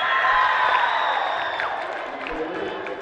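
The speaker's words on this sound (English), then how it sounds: "Perry Meridian fans are cheering and screaming on the sideline." Perry Meridian fans at a 7th grade volleyball match cheer and scream from the sideline in a loud, dense crowd roar that slowly eases, with high whoops rising through it.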